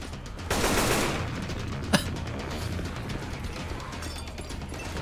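Gunfire in Left 4 Dead 2, a dense burst of rapid shots followed by a single sharp crack, then a rough broadband wash of game noise, no speech heard.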